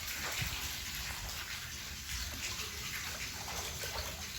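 Water splashing steadily as a split mango is rinsed under a running tap, a continuous hissy wash of droplets heard up close without talk.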